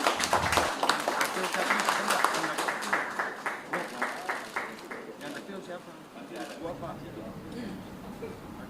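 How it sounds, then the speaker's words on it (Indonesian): An audience at an official Indonesian ceremony for handing over recovered state funds in a palm oil graft case gives a round of applause, distinct rhythmic claps that thin out toward the end, with talk underneath. "Boleh kita berikan tepuk tangan sekali lagi."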